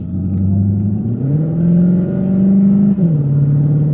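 A Cupra Formentor 1.4 petrol engine in Cupra mode, heard from inside the cabin, drones loud and close, its note rising as it revs, dipping briefly, then settling again.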